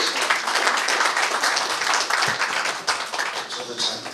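A hall audience applauds at the launch ceremony of a Southern California Seoul, Gyeonggi and Incheon hometown association, with a dense, steady wash of many hands clapping throughout.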